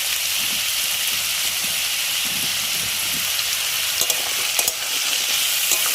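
Spiced potatoes and onion being stir-fried (koshano) in a pan, a dense and steady close sizzle like rain on a surface, with a few sharper clicks of stirring toward the end.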